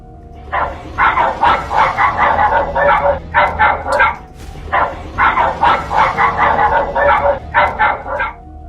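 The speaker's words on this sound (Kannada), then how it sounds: "ಅವನಿಗೆ ನಾಯಿಗಳೆಲ್ಲ ಬೊಗಳ್ತಾ ಇರೋದು" Several dogs bark in rapid, repeated bursts, loud and close, with brief pauses between volleys and a steady low rumble beneath.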